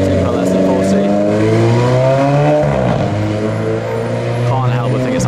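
A car engine revs hard and climbs in pitch, with a brief break around a gear change before it pulls again, loud and close throughout.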